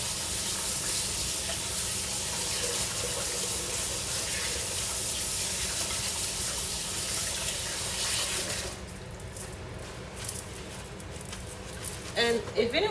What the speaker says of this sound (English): Let me just wash my hands to get the stickiness off